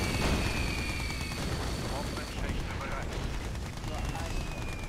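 Bursts of rapid gunfire and explosive battle noise from Command & Conquer Red Alert 2 Yuri's Revenge during a co-op Soviet campaign, loud and dense throughout, with game voice lines briefly mixed in.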